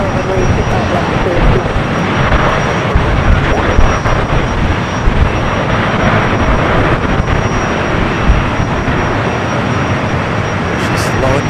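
Airliner slowing on a runway at Los Angeles LAX airport, a loud, continuous jet engine roar with a broadband rush that stays steady throughout, as voices talk over it.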